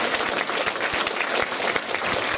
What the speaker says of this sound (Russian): Вот давайте его похлопаем.